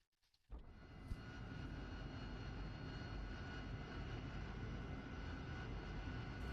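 Steady, loud roar of an AV-8B Harrier jet engine in the DCS flight simulator game, starting abruptly after a brief quiet moment and holding constant without voices.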